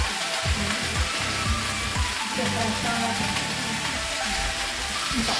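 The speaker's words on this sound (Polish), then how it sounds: "gdy się smaży tortilla" A tortilla fries in a hot pan at about 150 degrees during homemade kebab cooking, a continuous close sizzle with soft clatter and stirring noises underneath.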